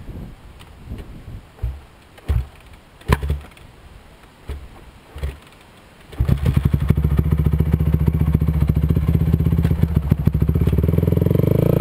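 Motorcycle engine while the rider shifts gears, first scattered thumps and clatter, then the engine roars in loud and close and holds a steady, rising drone.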